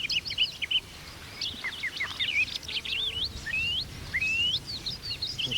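A song thrush mimics a curlew in a run of clear, whistled, rising and slurred phrases, bright and fairly close, with other bird chirps scattered around it.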